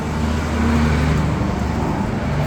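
A big dump truck driving along a street, a loud continuous low engine rumble mixed with road traffic noise, heard close by with no talking.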